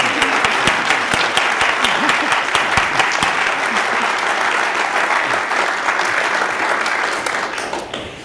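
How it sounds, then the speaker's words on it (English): An audience claps warmly for local authors at a Concord-area author event, a dense, even round of applause with a few sharper individual claps, tapering off near the end. "let's give our authors a huge round of applause"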